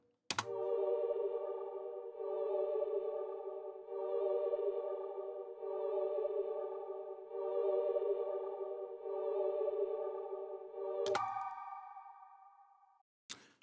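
Omnisphere synth patch playing sustained harmonic tones in a beat, a bright, bell-like pad swelling in steady repeated phrases, then a brief higher tone and a sharp hit near the end, with no voices.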